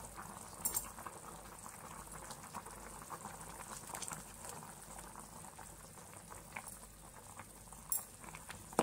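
Crab curry simmering after ground masala paste is added, a faint steady bubbling and popping close by, with a low continuous hiss and occasional louder pops.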